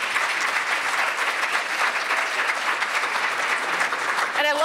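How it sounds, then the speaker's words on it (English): Conference attendees at the 2012 National Mentoring Summit keynote clap together in a full, continuous burst, and a voice starts speaking over the last moments as the clapping continues. "Yeah, you can clap for that."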